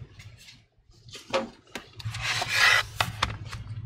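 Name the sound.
metal prying tool prying open laptop bracket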